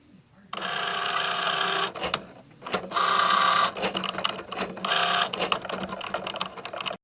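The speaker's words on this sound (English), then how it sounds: "And now I'm going to tell my Cricut to go." A Cricut Joy cutting machine runs through a design, its motor whirring in steady bursts with short pauses between passes, fairly close and moderately loud, with some faint background movement.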